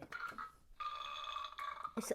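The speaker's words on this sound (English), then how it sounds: "Did you just do a burp yet again when I'm speaking?" A single loud, drawn-out human burp, close and tonal, comes between short bursts of talking in an indoor room.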